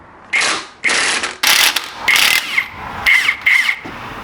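An impact wrench rattles a bolt off a Honda Integra B-series engine, several loud close bursts of hammering buzz of varying length separated by brief pauses, with no talk.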